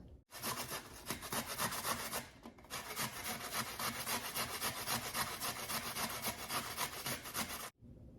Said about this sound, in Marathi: त्याच साईडने हा बीटरूट किसून घेणार आहोत